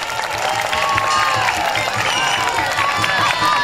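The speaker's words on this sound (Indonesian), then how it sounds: "Tepuk tangan biar rame." An audience applauds at a travelling Betawi lenong performance in Jakarta, a steady wash of many hands clapping mixed with scattered cheers and voices throughout.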